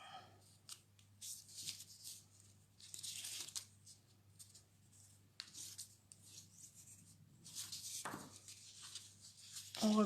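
Origami paper being folded and creased for a small Christmas box, soft crinkling and rubbing strokes as the folds are pressed down, close and quiet, with brief pauses between.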